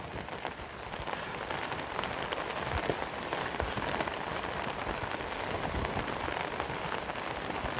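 Rain falling steadily on surfaces around a rural Filipino hangout, a dense, even hiss of drops with occasional heavier patters and no voices.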